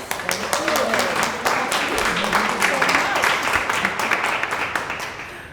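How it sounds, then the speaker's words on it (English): An audience at el Museo del Barrio applauds artist Caridad De La Luz with dense, sustained clapping and scattered voices, steady throughout and fading slightly at the end. "just give another applause"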